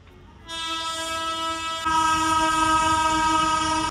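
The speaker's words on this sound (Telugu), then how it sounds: "ఈ వెనక ట్రైన్ వెళ్తుంది, అనిపిస్తుందా?" A passing train's horn blares in a long sustained tone that swells louder partway through, with rail rumble beneath, on the road to Araku; no voices.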